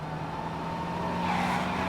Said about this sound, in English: Nobody hears the noise coming from the cars as if they're racing up the building?